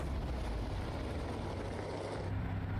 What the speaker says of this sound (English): Gravel sounds great.